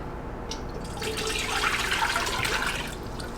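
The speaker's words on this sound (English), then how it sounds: "So I'm going to pour it into my stock pot." Crabapple juice is poured from a container into a stock pot in a home kitchen, giving a steady liquid splash and gurgle that swells as the flow picks up, then eases near the end, close and alone.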